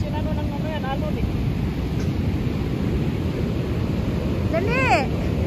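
Ocean waves surge continuously under strong wind buffeting the microphone, while people's voices call out briefly in Filipino near the start and end, during surf fishing for salmon.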